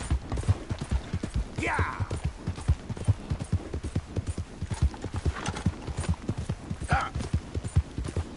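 Rapid, rhythmic hoofbeats clip-clop from a galloping horse in Red Dead Redemption 2, close and continuous, with a few brief snorts or whinnies and a short voice exclamation.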